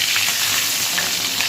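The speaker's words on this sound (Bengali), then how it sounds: "এই মাছগুলোকে আগে ভেজে নেব," Fresh Ganges river fish fry in a pan of hot oil, giving a dense, loud, continuous close sizzle with faint stirring underneath.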